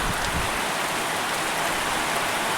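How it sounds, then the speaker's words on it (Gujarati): Steady, dense rain falls close by, a continuous even hiss of drops on surfaces with no break and no voices. "આજ જ વરસાદને યાદ કર્યો તો ને આજ જ વરસાદ આવી ગયો."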